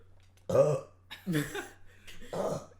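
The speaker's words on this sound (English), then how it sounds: "I'm gonna burp this way" A loud, drawn-out burp followed by a second gurgling belch and a third, each separated by short pauses, close to the microphone.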